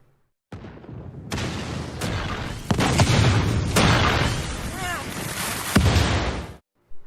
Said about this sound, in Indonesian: Tapi tiba-tiba tempat mereka dihujani banyak meriam di sana.